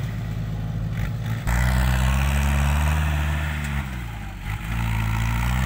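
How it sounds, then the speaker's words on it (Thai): A tractor engine labours hard while pushing packed dirt, a loud low diesel drone that surges and bogs as the load changes, with a brief dip before the engine climbs back to full strain. "กำลังลุยแหลกเลยรถไถยันมาก"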